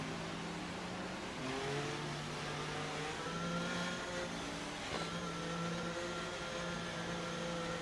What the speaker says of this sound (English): So, safety car makes its way in.